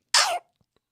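A voice imitating Donald Duck sneezing: one short, raspy, explosive burst lasting under half a second, close and loud, with silence after.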